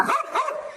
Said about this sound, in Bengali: এই কুকুরগুলো ঘেউ ঘেউ করছে